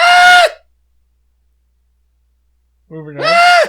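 A person imitates a screaming goat with two loud, harmonic shrieks, one at the start and one at the end, separated by a long stretch of silence.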